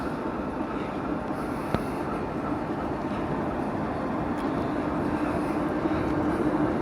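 Diesel engine of a TEP70 locomotive running, a loud continuous low rumbling throb with a faint turbine whistle on top, steady and close throughout, with no talking.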